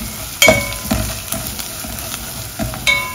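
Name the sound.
masala frying in pan for bitter val beans bhaji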